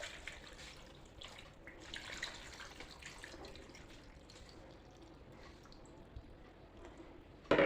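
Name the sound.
pouring second coconut milk into fish curry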